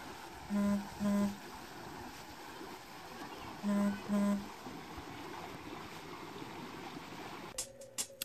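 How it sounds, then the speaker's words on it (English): Steady broadband rush of flowing water, like a stream or river, runs continuously at moderate level, interrupted twice by pairs of short low electronic tones and ending with a few bumps and handling noises. "listen to the amazing sound of the water because it was such an awesome sound to journal to"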